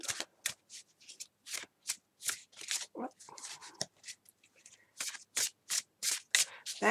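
Tarot cards shuffled by hand in a quick series of crisp riffling bursts, each a short papery flutter, repeating steadily with brief gaps and a softer stretch of sliding in the middle.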